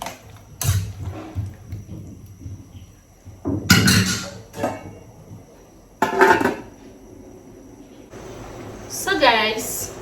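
Beans and potatoes are stirred in a pot and then covered, producing loud clanks and scrapes of a utensil against metal and the clatter of a lid, in separate bursts, while someone talks between them.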